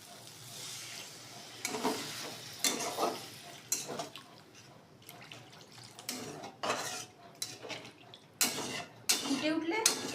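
Water poured into sautéed spice masala in a pan while cooking an egg and potato kofta curry, with clattering utensils and stirring scrapes in short bursts, close by, and a voice speaking at times.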